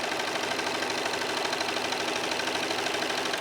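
A serger sewing machine runs steadily while serging a seam, giving a dense, continuous mechanical whir with a fast, even rhythm, close and alone for the whole stretch.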